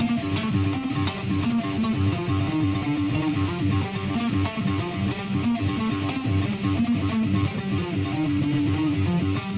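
Distorted electric guitar playing a riff, fast chugging palm-muted notes in a driving metal rhythm, dense and continuous.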